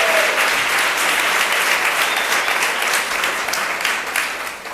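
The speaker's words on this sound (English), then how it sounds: "give her a round of applause and welcome her" An audience at a live conversation event welcomes a guest with a dense, steady round of clapping that holds strong throughout and eases slightly near the end.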